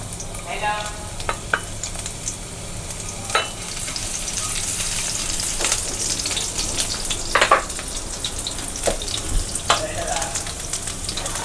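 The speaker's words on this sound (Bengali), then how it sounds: "এবার আমি এতে দিয়ে দেবো রসুন কুচি," Chopped garlic frying in oil in a pan, a steady soft sizzle with scattered sharper crackles and occasional stirring scrapes, continuous and close with no talking.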